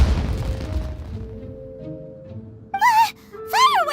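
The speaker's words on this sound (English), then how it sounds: "It sounded like fireworks." A fireworks blast in Genshin Impact, starting with a low, rumbling boom that fades over a couple of seconds. Two short voiced exclamations follow near the end.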